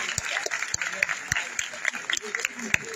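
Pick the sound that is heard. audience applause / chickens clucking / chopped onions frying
audience applause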